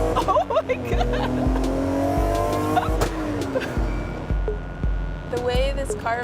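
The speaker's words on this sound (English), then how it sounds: "The way this car vibrates," A car drives with engine rumble and some tyre noise, a steady loud mechanical drone with rhythmic low thumps throughout, and voices exclaiming briefly over it.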